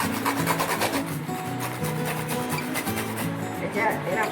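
Pointed gourd (potol) rubbed and grated by hand in a home kitchen, a steady scraping rasp under continuous background music, with no voices heard.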